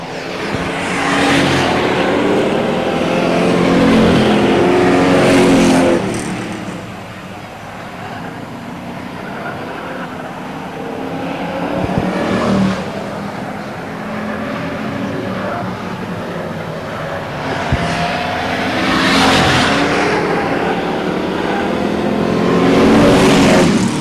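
Loud, continuous engine roar from race cars circling the Stockton 99 Speedway, rising and falling as the pack passes close by, with a race announcer talking over the noise.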